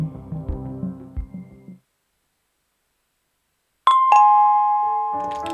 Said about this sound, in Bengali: কলিং বেল বাজানোর প্রায় সাথে সাথেই হরিদা এসে দরজাটা খুলে দিল।